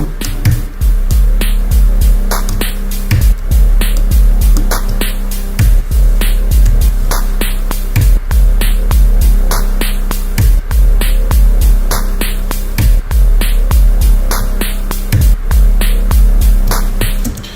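A synthesizer plays sustained, droning tones over a steady rhythmic pulse, with a spacious, echoing wash throughout and no voices.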